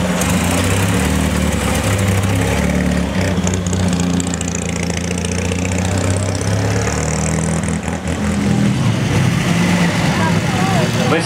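Bugatti Type 40 Torpedo with Bosson coachwork at the Molsheim Bugatti festival, its engine running loud and steady throughout, with voices over it.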